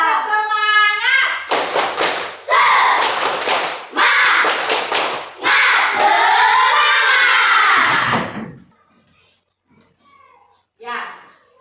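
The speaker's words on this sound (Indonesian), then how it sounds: "kita tepuk semangat dulu" A primary school class does the rhythmic 'tepuk semangat' spirit clap, with sharp bursts of clapping in set patterns broken by children's voices chanting along, close and loud, ending in quiet with a brief voice.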